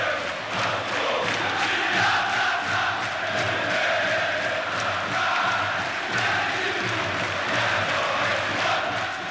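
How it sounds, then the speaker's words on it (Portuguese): Fluminense supporters singing together in the Maracanã stadium, a dense sustained wall of crowd voices carrying a chant, loud and continuous with a rough roar underneath. "No Maracanã, a torcida do Fluminense emocionou o estádio com a canção que virou hino"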